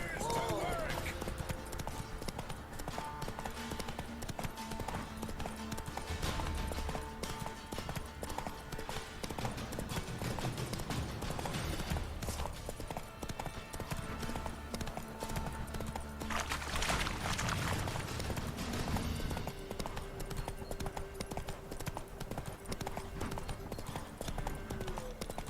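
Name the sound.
horse Roach trotting, hooves clip-clopping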